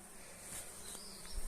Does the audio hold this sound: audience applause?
no